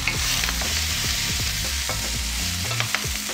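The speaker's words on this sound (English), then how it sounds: "now I'll put in the broccoli leaves and the chopped zucchini and stir fry for another couple of minutes" Broccoli leaves and chopped zucchini stir-fried in a hot pan, a steady sizzle broken by repeated scraping and tossing strokes of a utensil, close and fairly loud with no talking.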